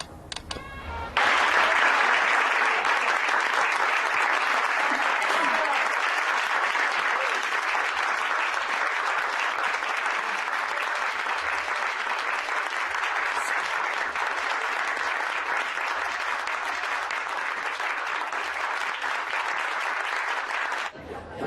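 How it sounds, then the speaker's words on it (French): A theatre audience applauds after a play, a sustained, even roar of many hands clapping that starts abruptly and holds steady for about twenty seconds, loud and close. "tu as entendu les applaudissements?"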